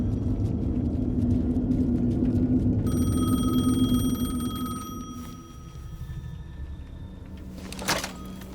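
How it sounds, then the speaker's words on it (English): A payphone rings in Alan Wake 2, a steady electronic trill that starts partway in over a low ambient rumble and then fades as the game sound shifts. "The payphone was ringing."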